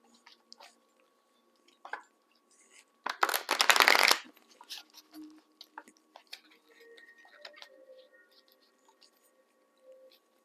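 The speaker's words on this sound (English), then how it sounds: "I'm just doing a little extra shuffling on camera." Tarot cards being shuffled in one quick riffling burst, with soft handling sounds and light rustling of cards before and after.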